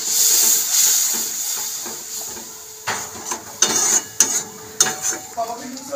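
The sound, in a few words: water poured into hot masala in a pan, hissing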